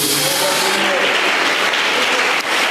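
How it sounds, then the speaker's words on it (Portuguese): Clapping from a church congregation at a Portuguese-language service, a dense, even wash of hands sustained throughout with a brief dip near the end. "Bate as palmas para Jesus"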